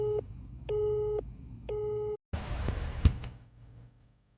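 A telephone busy signal sounds three times as steady, evenly spaced tone bursts, close and clear. It then cuts off abruptly into a rough, noisy line hiss with a brief click.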